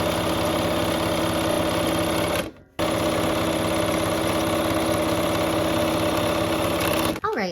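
A sewing machine runs steadily, sewing quilt pieces together. Its motor hums loud and close with a rapid rhythmic stitching, stops briefly, then runs again before a short handling noise at the end.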